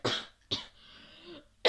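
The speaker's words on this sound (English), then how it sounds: "bad cough" A harsh, heavy cough comes in three loud, close bursts, the first two about half a second apart and the third after a short pause, with a faint breathy exhale between them.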